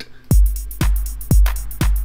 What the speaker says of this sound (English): Pattern number one, the basic beat.